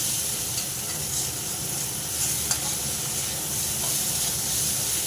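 Lentils and banana flower, cooked with prawns, fry in a pan with a steady, dense sizzle and a faint stirring scrape, close and continuous throughout.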